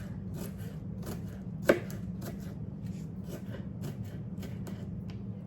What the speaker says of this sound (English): I'm gonna go ahead and cut up for just for my potato salad